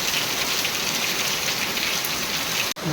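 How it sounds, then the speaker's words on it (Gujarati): Heavy rain pours down in a dense, steady roar of drops hitting surfaces, continuous and close, with a brief dropout near the end. "જોરદાર અંધરાધાર વરસાદ ચાલુ છે"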